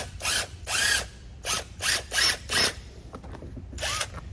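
A power drill backs machine screws out of a pontoon boat seat, sounding as several short whirring bursts of a second or less each, fairly close and clear, with brief pauses between them and no talk.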